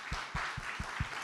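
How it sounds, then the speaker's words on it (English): A studio audience applauds a guest at the close of a talk-show discussion on freedom, a steady wash of claps with a few louder hand strikes standing out, fairly soft and even. "join me in giving a round of applause to our guest, Dan McLaughlin, for that discussion"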